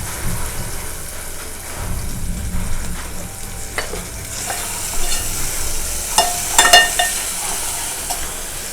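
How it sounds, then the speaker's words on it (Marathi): Onion with chili and ginger-garlic paste fries in a pan for a Konkan taro-leaf curry, giving a steady close sizzle under repeated scraping and stirring strokes, with a few sharper clinks of the spoon against the pan. "कांदा भाजतोय तो पण त्याच्यामध्ये मिरची आणि आलं लसूणची पेस्ट घालते"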